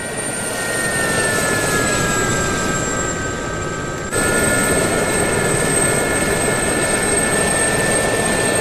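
A helicopter in DCS World autorotating down to a landing on a ship, a loud, continuous engine and rotor drone with a steady whine, shifting abruptly in tone partway through.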